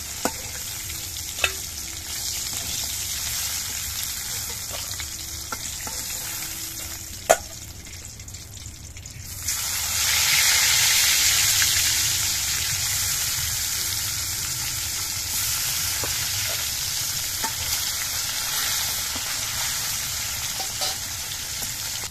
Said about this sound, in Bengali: মাছের এই পিঠটাও ভেজে নিতে হবে।